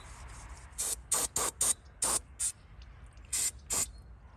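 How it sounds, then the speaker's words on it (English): Short hissing bursts of cleaner sprayed over an OMC tilt gearbox and its seal surfaces, about nine quick squirts in irregular clusters, close and crisp. "I'm washing the gearbox and seal surfaces."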